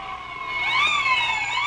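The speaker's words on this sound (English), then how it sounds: "There goes the father engine." A fire engine siren wails steadily and loudly, its pitch rising and falling in a long sweep, close by and with no voices.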